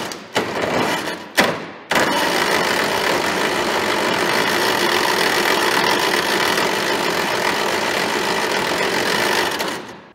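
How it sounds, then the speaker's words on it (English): A noisy starter cranks an old, long-sitting Farmall tractor engine, sounding as two short bursts followed by a long, steady, loud whirring grind that runs for about eight seconds before cutting off. "Cranking the engine over now. This starter's pretty noisy, but the engine is spinning."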